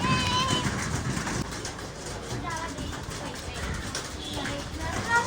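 Pigeons coo while being fed grain, soft repeated calls mixed with fluttering and scuffling as people talk nearby.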